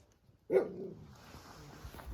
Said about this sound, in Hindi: तो पुम्बा यहाँ पर है, उसका पति बहुत भौंक रहा है मेरे पे, बहुत ही खूंखार पति है उसका